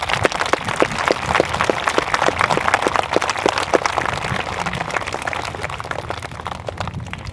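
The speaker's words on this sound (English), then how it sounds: "So give them a round of applause, please." Crowd applause at an outdoor Arbor Day celebration: dense, steady clapping from many hands, with sharper individual claps standing out, loud and sustained for the whole stretch.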